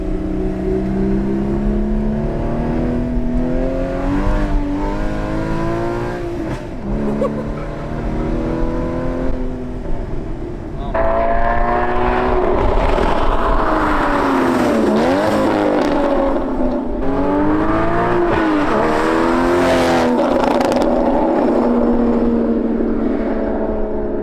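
Porsche Cayman sports car engine rising and falling through repeated hard accelerations and gear changes, loud and close, with a harsher, busier engine note in the second half.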